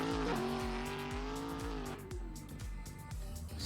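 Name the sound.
BMW E21 car driving on race track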